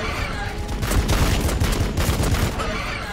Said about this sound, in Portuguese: vamos atirar aqui